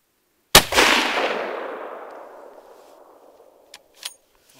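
A single loud gunshot from target shooting at a creek cracks out sharply and rings into a long fading echo, followed by a couple of faint clicks near the end.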